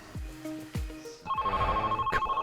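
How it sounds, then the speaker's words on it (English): A telephone rings in a continuous electronic warble after a few dull thuds, fairly loud and close, with no talk over it. "Answer the phone."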